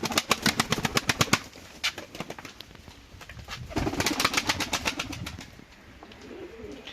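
Pigeons coo in a cellar loft, with bursts of rapid rhythmic fluttering and flapping wings coming and going.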